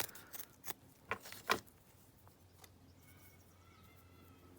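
Paper being cut and torn by hand for a lapbook, a few short crisp snips and rips close by in the first couple of seconds, followed by a quiet room with faint distant background noise.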